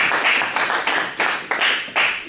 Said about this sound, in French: C'est là qu'on applaudit